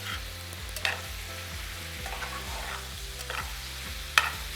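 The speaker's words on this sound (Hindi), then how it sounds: "इसको हम अच्छे तरीके से फ्राई करेंगे।" Lentils (dal) frying in a frying pan, restaurant style, with a steady broadband sizzle and occasional sharper clinks as the spoon stirs and scrapes against the pan, close and without speech.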